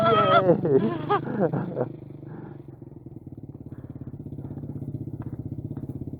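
A learner's motorcycle revs up in first gear as the rider gives it gas, the engine's pulsing note rising steadily and growing louder after a burst of talk at the start.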